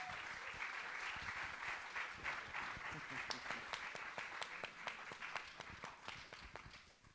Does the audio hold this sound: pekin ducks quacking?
no